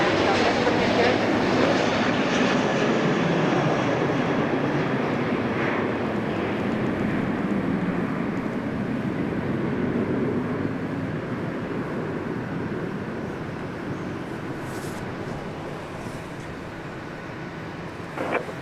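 Southwest Airlines jet taking off from Dallas Love Field, a loud, broad engine roar that fills the scene and slowly fades as it climbs away, with faint radio chatter and voices beneath.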